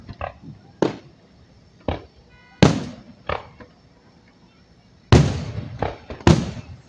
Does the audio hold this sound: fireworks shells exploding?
yes